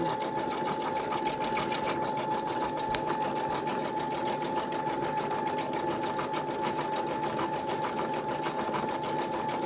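A Brother Skitch embroidery machine stitching a design, giving a steady, rapid mechanical whirring chatter that runs continuously and evenly from start to finish, close up, with no voices.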